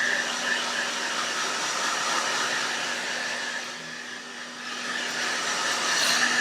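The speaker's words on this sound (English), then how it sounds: "Going all the way from wet to dry with a hand blow dryer" A hand-held hair dryer blows with a steady, loud whooshing roar and a faint hum underneath.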